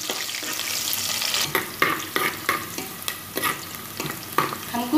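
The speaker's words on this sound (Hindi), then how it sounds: "अब हम इसमें प्याज डालेंगे। 1 मिनट तक अच्छा है इसको फ्राई करेंगे।" Onions frying in oil with spices in a pan for a Hyderabadi tomato and okra curry, sizzling steadily throughout with repeated stirring scrapes and clinks of a utensil, close and fairly loud.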